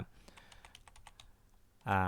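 Computer keys are pressed in a quick run of light, crisp clicks, close and quiet, while adjusting the Sharpen Tool in Photoshop on a Thai-layout keyboard, ending abruptly as a voice begins.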